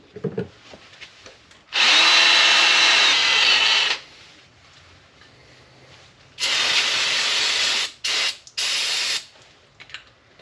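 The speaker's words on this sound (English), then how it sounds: "Give it a quick spray so you don't have dust flying everywhere." An aerosol spray can hisses in two bursts, a long one of about two seconds and a later one, followed by a few short sharp sprays, close and loud, during a GTO wheel hub replacement.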